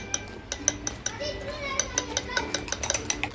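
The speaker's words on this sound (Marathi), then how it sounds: "ही अंडी आहेत ना छान फेटून घ्यायची आहेत आपल्याला" Eggs with a pinch of salt are whisked briskly in a bowl, producing rapid, light clinking taps of utensil against the dish, close up with faint background voices.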